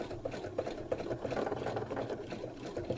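A sewing machine stitches around a quilt block, a steady close-up motor whir with a rapid, even needle chatter running throughout at moderate loudness.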